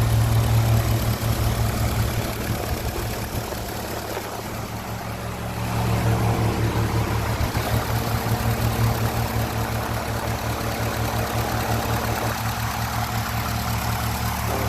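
1957 Ferguson 35 tractor running on TVO, its engine idling steadily up close with a low, even, chugging hum that dips slightly midway and then settles back.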